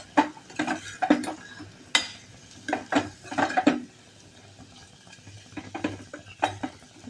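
Masala sautéing in oil in a pan for a mushroom curry, with a spoon scraping and clinking against the pan in irregular bursts over a soft background sizzle.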